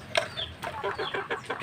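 Hungry chickens at feeding time on a muddy, rain-soaked farm yard, several birds clucking and squawking close by in quick overlapping calls.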